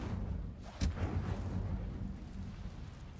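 Incendio fire spell cast in Hogwarts Legacy, a single sharp burst of flame with a whooshing blast near the start, then fading into a low, rumbling game ambience.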